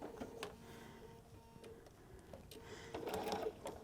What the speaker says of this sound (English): I'm going to do a back tack.